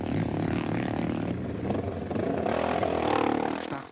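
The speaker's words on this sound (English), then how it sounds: "Railliet, only 5'4" tall, is nicknamed Tom Thumb and has to literally mount the BMW R80 GS. However, he handles the bike brilliantly." BMW R80 GS motorcycle ridden in the Paris–Dakar desert rally, its engine droning steadily and close throughout, with clatter and a slight swell in revs toward the end.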